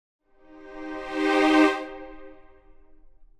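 A single sustained chord from a close-miked string section swells up and fades away, rich and close, ringing alone without any voices.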